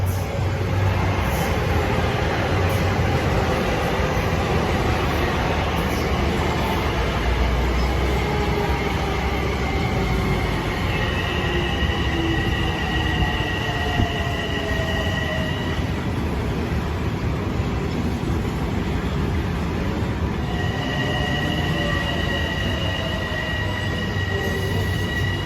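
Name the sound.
LIRR commuter train passing through Westbury station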